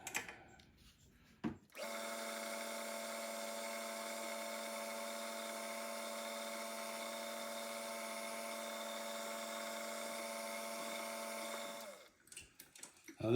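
A number 52 drill boring a small hole with cutting oil, a steady high whine running about ten seconds at close range, with brief handling sounds before and after.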